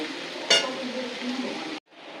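Potatoes sauté in hot oil in a pan for a spicy Tamil potato curry, a steady close sizzle with a brief stirring clatter near the start, cutting off abruptly before the crackle resumes more softly.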